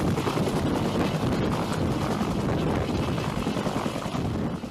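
AH-1W Super Cobra attack helicopter, a continuous close rotor and engine roar with rapid blade chop, mixed with buffeting wind, steady loudness throughout.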